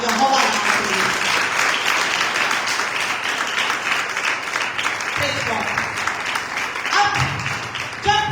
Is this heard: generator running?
no